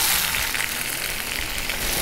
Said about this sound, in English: Then we're gonna add our peppers and our onions and caramelize them a bit.